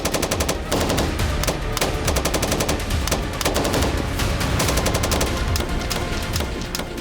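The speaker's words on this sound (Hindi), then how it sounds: "इजरायली जवानों के जत्थे इमारतों के अंदर घुसकर गोलीबारी करने का अभ्यास" Israeli soldiers fire automatic weapons while practising urban warfare inside buildings of a mock Gaza town, rattling out rapid repeated bursts of gunfire that echo, with short gaps between volleys.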